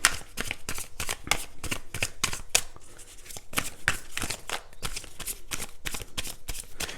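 Tarot cards are drawn and handled in a quick run of crisp, snapping card flicks and riffles, close and clear, with short pauses between bursts.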